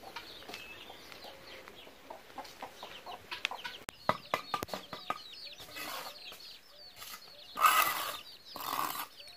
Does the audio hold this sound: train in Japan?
no